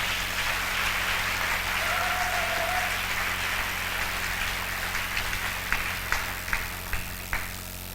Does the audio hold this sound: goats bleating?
no